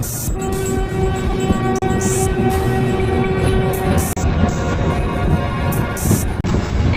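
A train rumbles loudly nearby while its horn sounds a long sustained blast, with rattling carriages and clatter continuing after the horn fades.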